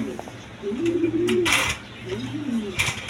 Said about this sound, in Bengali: এখানে এক পেয়ার দেখেন কবুতর আছে